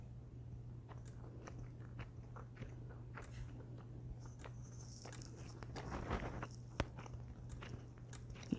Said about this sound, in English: I've got gum in my mouth, so that's why I'm chewing